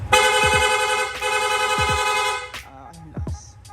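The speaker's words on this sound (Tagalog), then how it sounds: "Long press lang po natin yung horn switch, yung busina natin, magsusunod-sunod na po yan" A Suzuki Raider J 155 motorcycle's horn blares in rapid repeated bursts, two long blasts followed by a quick string of short beeps, loud and close.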